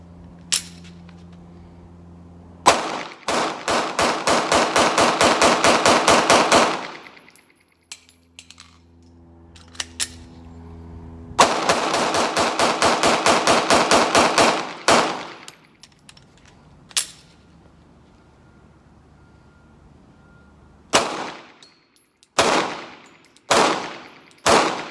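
Glock pistol fed from Shield Arms magazines fires in rapid strings of loud, sharp shots, two long bursts of many rounds separated by pauses, then several scattered single shots near the end.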